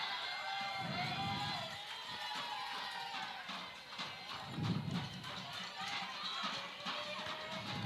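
A packed, standing-room-only crowd at a 3A state semifinal fastpitch softball game makes a steady murmur with scattered shouts and cheers that swell at moments, heard from within the stands.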